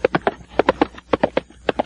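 A horse-hooves clip-clop sound effect, loud and close, with quick galloping groups of knocks repeating at a brisk, steady rhythm for about two seconds and no other sound.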